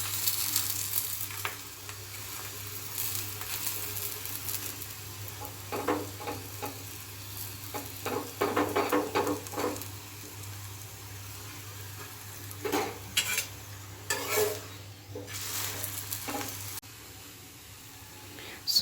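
Onion paratha frying in oil on a pan over low to medium flame, a quiet soft sizzle with intermittent scraping and stirring bursts over a steady low hum.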